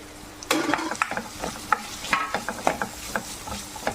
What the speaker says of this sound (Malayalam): എല്ലാം കൂടെ ഗോൾഡൻ കളർ ആകുന്നിടം വരെ നല്ലോണം വഴറ്റിയെടുക്കാം